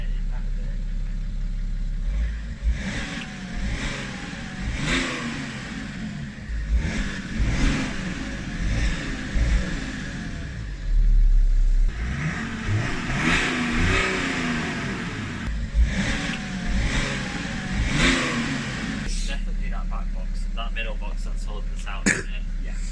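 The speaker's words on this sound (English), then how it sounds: "We need the middle boxes out, but let's see what it's like with just the back boxes." A BMW E90 335d diesel engine revs and rumbles in bursts with the back exhaust boxes removed, throttle rising and falling, turbo audible, with people talking over it throughout.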